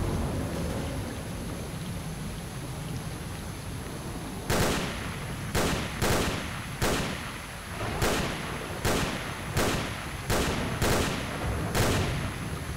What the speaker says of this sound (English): I'm sure I'm shooting at a human being